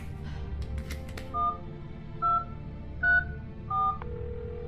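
Four clear electronic keypad tones sound as a mobile phone is dialled in an audio drama, spaced about a second apart over a low background hum, after a few faint clicks.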